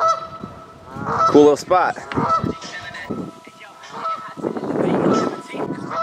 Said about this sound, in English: That duck is going crazy.